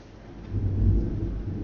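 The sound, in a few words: thunder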